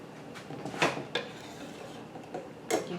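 Metal lids clink and scrape faintly as they are screwed finger tight onto glass jars of sweet pickle relish, a few soft scattered clicks and knocks in a quiet kitchen.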